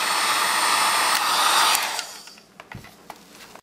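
A hair dryer blows steadily into the cooling fan of an MSI GT780 laptop, a loud broadband rush that cuts off after about two seconds, leaving a few faint clicks and knocks.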